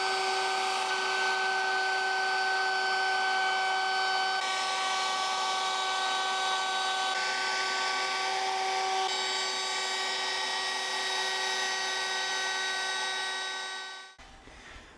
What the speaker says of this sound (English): turn the vacuum on, and we'll get this routing done.